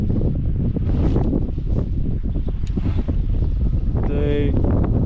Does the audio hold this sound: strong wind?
yes